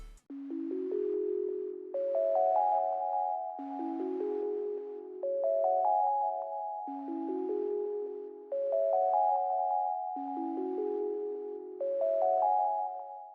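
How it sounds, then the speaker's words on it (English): A synth bell preset called By the Sea plays a rising arpeggio of bright, chiming notes in repeating phrases, each phrase climbing then restarting, clean and unaccompanied. "this sort of bell from Analog Lab. Preset is called By the Sea."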